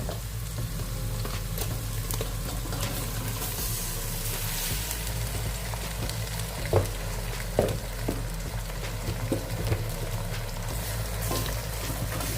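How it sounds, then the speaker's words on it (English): Prawns frying in a pan over sauteed seasoning for Jamaican pepper shrimp, a steady close sizzle with a few clattering stirs and knocks, no voices. "And now I'm going to be adding in all of the prawns."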